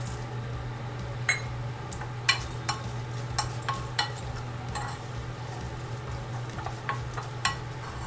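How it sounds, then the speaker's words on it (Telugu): Dry red chilli, cumin, mustard seeds and chana dal tempering in hot oil: scattered sharp pops and crackles rise over a steady low hum, with no one speaking. "పోపు కోసము ఒక ఎండుమిర్చి, జీలకర్ర, ఆవాలు, శనగపప్పు అండి వేసేస్తున్నాను."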